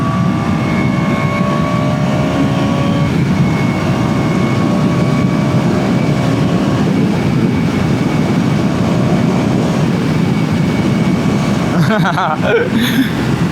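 A KTM Duke 200 motorcycle engine hums while riding, with a steady buzzing drone and faint rising and falling tones over constant road and wind rush.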